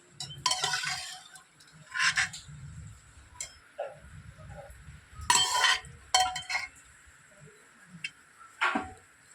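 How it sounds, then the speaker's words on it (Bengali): Boiled jackfruit seeds being lifted out of a pressure cooker, with light metal utensils clinking and tapping in scattered bursts, close by and moderately loud. "প্রেশার কুকার থেকে বের করে নিচ্ছি।"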